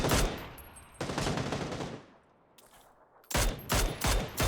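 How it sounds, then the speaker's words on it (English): Automatic gunfire in the battle royale game PUBG during a pro scrim match, loud sustained bursts of rapid shots, a lull with faint echoes, then more close, punchy volleys. "Laosh continuing to put the covering fire down."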